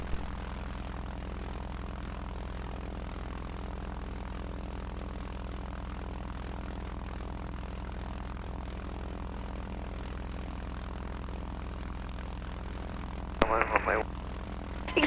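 Piper Seneca twin-engine aircraft running on its left engine, a steady low propeller drone heard from inside, with a brief burst of radio chatter near the end.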